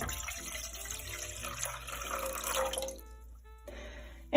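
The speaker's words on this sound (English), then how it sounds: "Let's pour the water in." Two cups of water poured from a cup into a regular quart-size pan on the stove, a steady close splashing and trickling stream that tapers off near the end.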